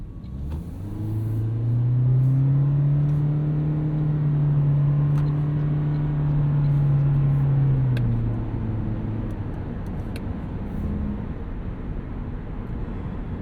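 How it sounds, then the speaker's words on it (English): A 2024 Toyota Prius AWD hybrid's 2-liter engine drones loudly and grainily as it strains under acceleration, a steady rising hum that swells for several seconds, then eases off inside the cabin. "Don't super love how loud and grainy that 2-liter is."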